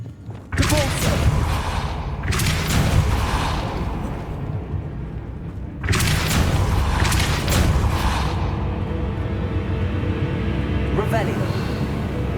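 Depulso spells fire in Hogwarts Legacy as booming magical blasts with a rushing whoosh, several heavy bursts spread across the clip over a continuous rumbling game backdrop.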